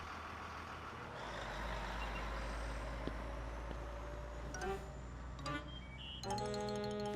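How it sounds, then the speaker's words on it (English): A big yellow school bus in a cartoon street scene rumbles steadily at low pitch, then slows with a brief hiss and a few short tonal beeps and chimes near the end, with no speech. "the big yellow school bus that drove down his street"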